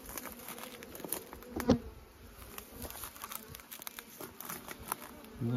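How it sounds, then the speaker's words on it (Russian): Honeybees hum at an apiary hive with a newly emerged young bee, giving a steady close buzzing with small crackles and ticks, and no talking over it. "Молодая пчелка."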